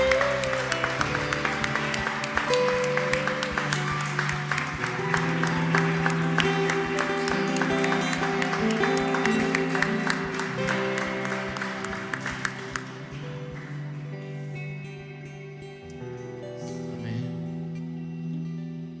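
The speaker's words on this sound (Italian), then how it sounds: "Facciamo un applauso a questo Spirito." Applause from a church congregation at a Pentecostal worship service, a steady wash of clapping over sustained music that fades out after about twelve seconds, leaving quieter music.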